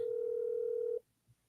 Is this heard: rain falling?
no